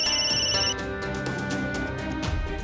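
A telephone rings in an indoor household scene from a Hindi television drama, its electronic ringtone trilling in bright repeated bursts over a steady background music bed, with no talk.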